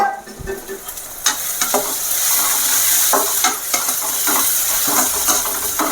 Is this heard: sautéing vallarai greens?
yes